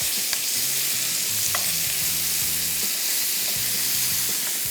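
Green chilies frying in a pan while being stirred and turned, with steady close sizzling and scraping stir strokes throughout.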